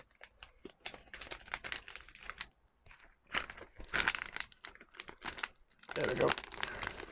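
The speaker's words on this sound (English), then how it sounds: "the plastic is kind of falling apart on the edges. I really ought to cut this off, to be honest." Plastic shrink wrap crinkling and tearing as it comes off an early RCA Japan pressing of an Elvis Presley vinyl LP, its edges already falling apart; close, irregular bursts of rustling with brief pauses and no talk.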